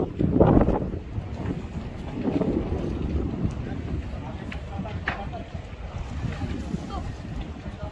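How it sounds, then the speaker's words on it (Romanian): Waves from a passing motorboat's wake slosh against a sailboat cruising the Saronic Islands of Greece, a steady churning wash mixed with wind buffeting the microphone. "acea șalupă a cauzat valurile."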